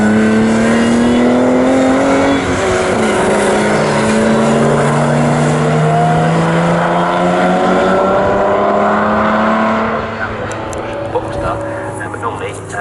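A field of classic 1960s race cars, including a Chevrolet Corvette, roars around Snetterton circuit in a Group 2 race. Engine notes sweep up and down continuously as cars pass, with a voice talking over them.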